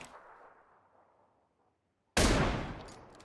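A single sharp, loud gunshot bursts out in PUBG Lite after near silence and rings off briefly, with no talking.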